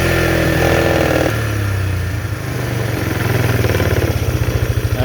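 Polaris Trail Boss 325 ATV engine with an original Mikuni carburetor problem runs loud and close, revving unevenly before settling into a pulsing, lumpy idle.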